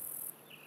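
A near cicada buzzes as a short, steady high-pitched drone in a designed ambience for an Unreal Engine sound demo, brief and clear against a quiet background.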